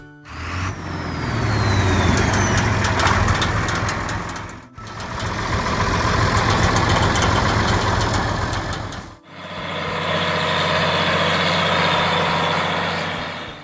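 A heavy diesel tractor engine idles close by with a steady low rumble and mechanical clatter. It is heard in three continuous stretches with no talking.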